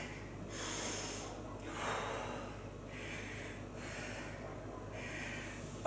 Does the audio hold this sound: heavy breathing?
yes